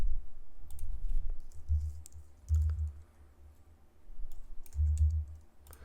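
A computer mouse clicking a few times nearby, soft separate clicks and low thumps spread over several seconds amid faint room noise, with no talking.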